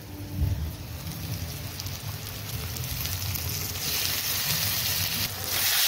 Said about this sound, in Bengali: ভালো করে ভেজে নেব মশলাটা পেঁয়াজের সাথে